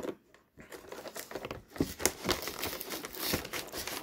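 Close, quiet crinkling and tearing of plastic wrapping as a Pokémon Ultra Necrozma card box is opened, irregular rustles and crackles with no speech.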